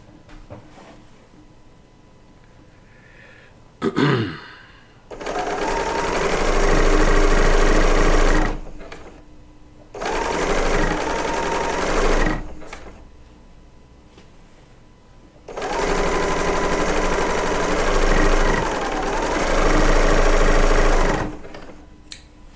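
A serger stitches quilt strips together in three bursts of loud, rapid mechanical whirring, each several seconds long, separated by quiet pauses with small clicks.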